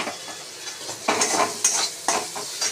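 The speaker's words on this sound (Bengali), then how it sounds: "তারপর একটু তেল দিয়ে রাঁধুনি ফোড়ন দিয়ে আদা দিয়ে উচ্ছেগুলো ভেজে দিচ্ছি" Bitter gourd fries in oil with radhuni seeds and ginger, sizzling loudly up close while a spatula scrapes and stirs in repeated strokes, with no talking.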